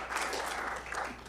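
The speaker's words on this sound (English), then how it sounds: "So let's give a round of applause for Forrest." Brief applause from a small audience at a village board meeting honoring Forrest, a staff member marking 10 years, steady clapping at moderate level for about a second.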